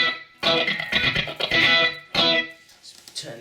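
Electric guitar played through a wah pedal with delay added, a series of loud sustained chords and sweeping tones with echoing tails, stopping and restarting in bursts.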